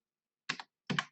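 Two quick keyboard keystrokes, a Control D shortcut on a computer, each a short sharp clack separated by a brief pause, close and clear in otherwise silent surroundings.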